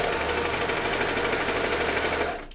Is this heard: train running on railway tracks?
no